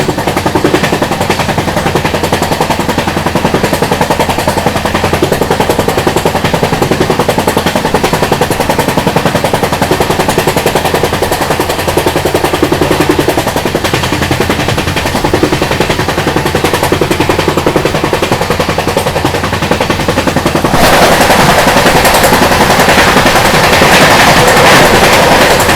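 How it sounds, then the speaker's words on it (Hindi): The Marathwada Sampark Kranti Express passing close by, a loud, unbroken rhythmic clatter of wheels over rail joints that keeps up for the whole run, with a brighter rattle near the end. "अभी देखो सामने से आ रही है मराठवाड़ा संपर्क क्रांति एक्सप्रेस।"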